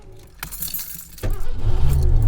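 An old van in Québec winter at -30 degrees starts on the first try: keys jangle and click first, then the engine cranks and catches into a loud, steady idle rumble.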